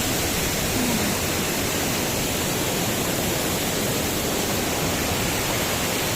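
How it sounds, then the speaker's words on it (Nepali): The Mailung waterfall in Rasuwa, Nepal, pours down from above, heard from right beneath it as a loud, constant, dense roar of falling water with no breaks and no talk. "चिसो पानीमा देख्न सक्नुहुन्छ माथिबाट झरना बगिरहेको छ"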